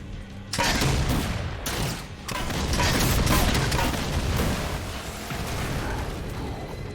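Fuel rod cannon shots in Halo 4, loud, heavy blasts coming in quick bursts that are split by brief pauses, amid a continuous wash of in-game battle noise.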